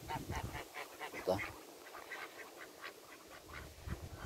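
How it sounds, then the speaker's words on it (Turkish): Ducklings quack at a rural village plot edged with wire fencing, giving short, repeated calls of moderate loudness with a faint voice in the background. "Ördek yavruları var."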